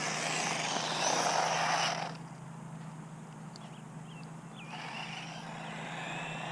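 A GP Toys S916 1/12-scale RC truck drives past as a steady electric motor whine, loud at first, then falling away and faintly returning, with no talk over it.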